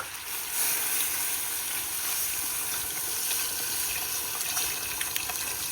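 Beef stock poured into a pot of browned short ribs with cooking wine and tomato paste, a steady continuous liquid splash and gurgle running the whole time with a faint sizzle beneath, no talking.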